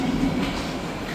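Steady rumble of a metro train ride heard from inside the carriage, a continuous low drone with a faint rattle that holds level for about a second, with no talking.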